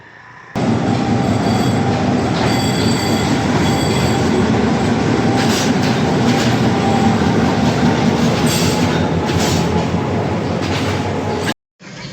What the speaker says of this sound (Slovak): Konečne teda sedíme usadení v nočnom vlaku do stanice Badulla, do stanice Colombo Fort.